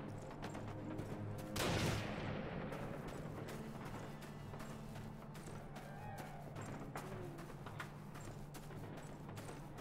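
Battlefield gunfire in the Call of Duty 1 campaign: a dense, continuous wash of shots and rumbling combat noise, with one louder, broad blast near the start standing out from the steady din.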